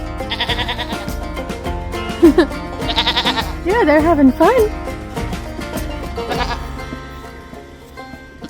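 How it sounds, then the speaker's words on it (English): Goats eat apple treats and bleat repeatedly at close range, several short wavering cries scattered among people chatting and laughing nearby. "Goats be goating out here."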